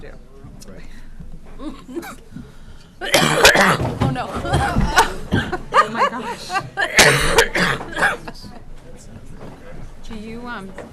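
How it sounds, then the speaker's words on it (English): Coughing bursts from a person with a lingering cough of about three weeks at a school committee meeting in Westford, Massachusetts, mixed with nearby chatter and laughter-like sounds that rise around the three- and seven-second marks. "I have, it's like a 3-week cough"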